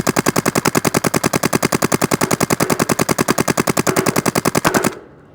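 A paintball gun fires in rapid automatic succession, a long even stream of loud sharp pops at close range that stops abruptly near the end, with no talking.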